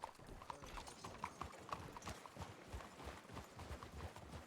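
Horses trot with rapid, steady clip-clop hoofbeats in a western video game, fairly faint and continuous throughout, with soft background ambience.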